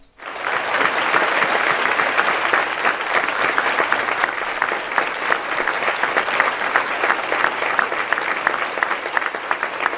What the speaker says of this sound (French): nous allons les saluer avec un grand applaudissement à toutes ces personnes qui vont nous voir